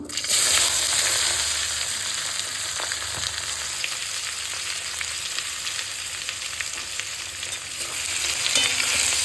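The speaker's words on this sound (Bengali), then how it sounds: "পেঁয়াজটা একটু হালকা হালকা লালচে লালচে করে ভাজবো" Four large chopped onions fry in a pan, browning lightly. A steady, close sizzle runs throughout with scattered crackles and stirring, and no talk is heard.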